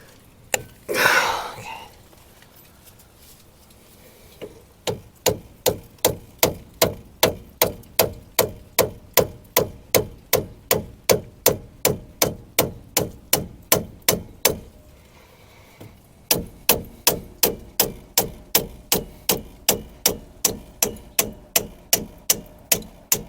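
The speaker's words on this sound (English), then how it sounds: "And then we can hammer on it because it's just slipping on the head." Rhythmic metal hammer blows on a stuck front brake part of a 1999 Mazda B2500 pickup, dozens of sharp evenly spaced strikes in two long runs separated by a short pause, close and clear.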